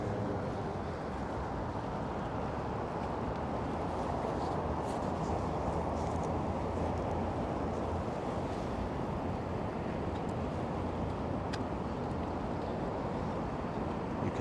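Water near Roosevelt Island in New York laps and washes in a steady, broad rush with wind buffeting the microphone, continuous and fairly close, with no clear voices.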